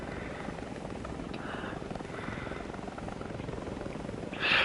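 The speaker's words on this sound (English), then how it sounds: "Apparently it was designed with the idea of going faster than a regular helicopter with the push prop or whatever." A compound helicopter with a pusher propeller flies in a video game, giving a steady, continuous rotor drone throughout, with a sharp brighter burst right at the end.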